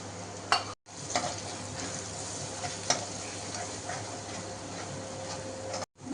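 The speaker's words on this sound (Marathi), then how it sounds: "मसाला व्यवस्थित फ्राय झालाय" Red chili powder, turmeric and garam masala frying with reddened onion and bay leaf in a pan, a continuous close sizzle with scattered stirring scrapes and clicks, no talk.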